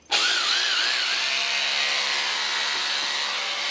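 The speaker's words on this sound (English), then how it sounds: "it's only drilling" A Hilti TE 5 rotary hammer, due for brush replacement, drilling with a sudden start into a loud, steady high-pitched motor whine that holds unbroken, close up and alone.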